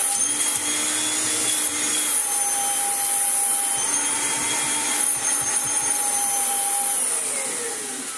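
A Kirby G4 upright vacuum cleaner motor runs continuously, with a loud, steady, bright whine, close to the listener and never pausing.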